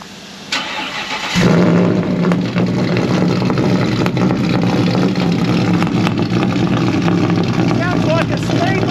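A car with twin straight-out exhaust pipes cranks briefly, then fires up into a loud, steady, rumbling idle that holds close and constant to the end.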